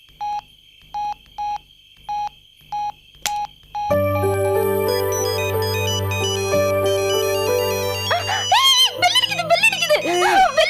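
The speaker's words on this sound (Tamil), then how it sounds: "என் நம்பர் ஃபோன் பண்ணி பார்க்கலாம்." A mobile phone ringtone on a call to a home number, in a Tamil TV comedy serial: a string of short repeated tone bursts, then a loud sustained melodic ringtone that swells and warbles toward the end, with no one speaking.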